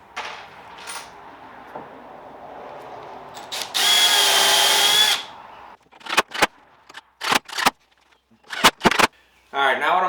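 A power drill whirs in one long pre-drilling burst, then several short bursts of a driver sinking 2.5-inch screws into wood, close and loud.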